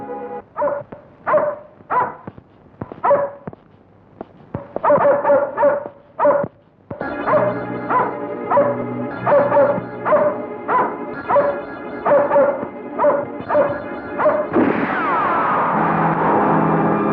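An unfed dog barks repeatedly in sharp, loud, evenly spaced bursts close by, the barking growing denser and more continuous before giving way to a steady noise at the end.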